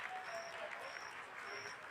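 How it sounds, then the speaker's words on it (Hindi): Audience applause during the Chandrayaan-3 lunar landing broadcast: a faint, steady wash of clapping that holds evenly throughout, with a voice speaking over it. "आप तालियों के गड़गड़ाहट से सुन सकते हैं"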